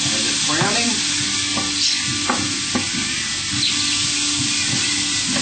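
Browning meat sizzles steadily in a Teflon pan while a spatula scrapes and pushes it around, the stirring clicks and scrapes repeating over a loud, close frying hiss.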